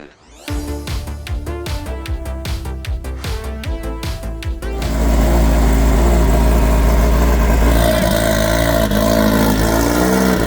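A BMW E60 M5 with a 6-speed manual transmission revs in a quick series of rising bursts, then settles into a loud, sustained high-rpm roar, close and unbroken.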